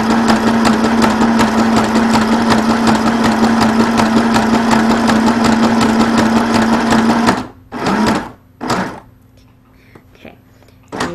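A Janome Sew Mini sewing machine stitches at a steady, fast mechanical whir with a strong hum for several seconds, then stops and gives a few short bursts of stitches, one at a time, while the fabric is turned at a corner.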